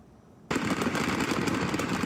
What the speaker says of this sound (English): It's a controlled detonation of illegal fireworks.